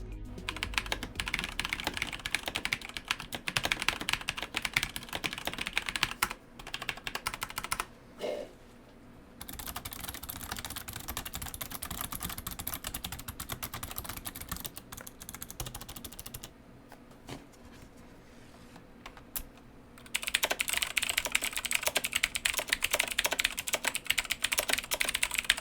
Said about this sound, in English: Here's a quick side-by-side sound test of the mecha membrane keys in the Ornata, the green switches in the Blackwidow X, and the orange switches in the Blackwidow Chroma.